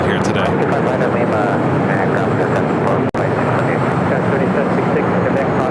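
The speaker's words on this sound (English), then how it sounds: "The Emirates A380 Super arriving on the north side" Emirates Airbus A380 arriving at LAX, its broad, steady jet roar loud and continuous throughout, with a brief dropout midway.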